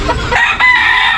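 Young roosters (stags) crow in one short, loud, close burst with a strained, raspy tone and no voices.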